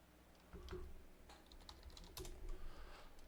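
Computer keyboard typing while entering text commands in the King's Quest 3 adventure game: a steady run of soft, close key clicks and taps with short irregular bursts, no voice.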